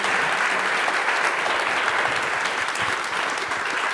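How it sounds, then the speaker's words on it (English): A conference audience claps steadily for a panel, a dense, even wash of applause from many hands that holds at the same level throughout with no voices standing out. "I'm just going to ask you to clap again, actually, because we need to say thanks to our whole panel"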